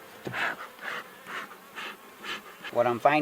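Honeybees drone around an open hive as frames are lifted during a hot-weather inspection, a steady close buzz swelling in repeated pulses and rising louder near the end.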